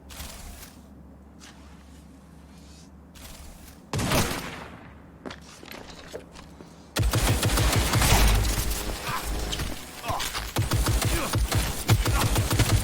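Automated turret fire in the Cyberpunk 2077 Nomad storyline: after a quieter stretch of scattered shots and thuds, a loud, dense barrage of rapid gunfire erupts and keeps going to the end.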